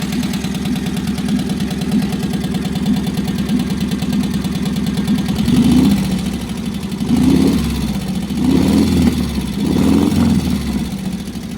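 A car engine idles with a low, slightly growly exhaust note shaped by the exhaust design, steady and fairly loud, with a few mild rises in revs partway through.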